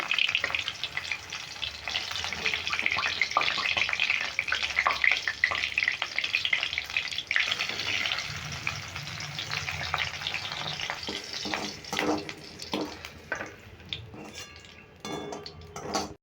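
Whole okra pods shallow-frying lightly in hot oil for a vegetarian bhindi masala, with a steady close sizzle, occasional stirring scrapes and clinks of a utensil against the pan, tapering toward the end.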